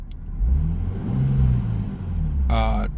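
A Nissan Skyline R34 GT-T revs after warming up, its engine rising and falling close by in a few short bursts, with a person talking near the end.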